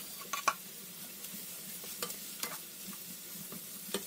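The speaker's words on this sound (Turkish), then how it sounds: "Soğanları da yağda biraz çevirdikten sonra içine biberleri ekliyorum." Carrots, onions and peppers sautéing in oil in a pan, a steady low sizzle with occasional light clicks of a spoon stirring, close and moderately quiet, no voices.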